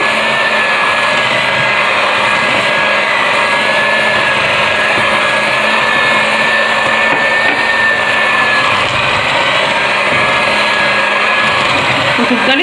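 An electric mixer whirs steadily as orange juice is beaten into orange cake batter, a continuous motor drone with a high whine, loud and close, running unbroken throughout.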